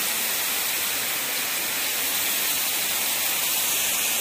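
Heavy rain pours by the Kali Kemiri river at Nglipar, Gunungkidul, a dense, even, loud hiss of falling water that fills the air without a break.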